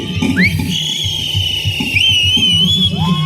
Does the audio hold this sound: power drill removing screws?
no